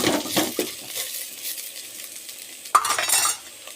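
Budamkaya dal stirred in a pan as it fries, giving close scraping and clinking strokes over a soft sizzle, with a sharper metallic knock near the end.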